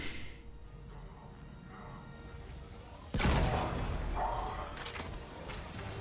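Shotgun blasts in the video game Mass Effect 3 Legendary Edition: a loud, dense burst of gunfire and combat noise erupts midway and continues at high level after a quieter stretch of game ambience.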